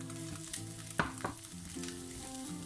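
Broccoli frying for chicken fried rice sizzles steadily in a pan, with two sharp spatula knocks and stirring scrapes over a faint background hum.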